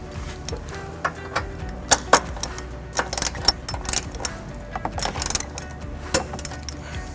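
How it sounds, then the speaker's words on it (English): A 19mm socket on a ratchet tightens trailer hitch bolts on a 2020 Toyota Highlander, making rapid uneven metallic clicks and clinks close by. "we're ready to tighten and torque all of our bolts to the manufacturer specification. We're going to be using a 19mm socket for all of those bolts"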